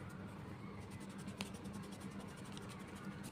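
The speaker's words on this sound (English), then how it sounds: "I'll write it clearly." A pen scratches across paper while geometry working is written out, a faint and steady scraping close by over low background hiss, with no speech.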